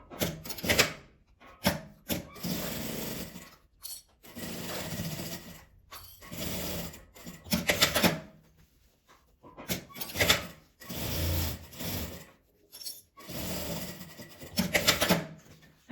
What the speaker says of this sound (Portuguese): Aí aqui eu já vou costurar ele fechando.